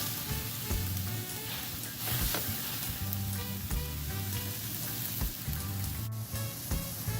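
Hawaiian burgers sizzling in a skillet as they are flipped and pressed, a continuous loud close sizzle with periodic scraping and clacks of the spatula.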